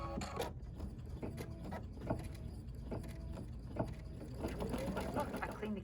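An embroidery machine stitching a coaster design in Isacord thread, a quiet, steady mechanical whir with soft repeated clicks and taps, heard close but faint in a room.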